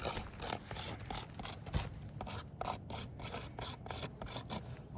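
A hand rubs back and forth across a roof shingle in a repeated rasping scrape, a dry, close, steady rhythm of about a dozen strokes with no talk.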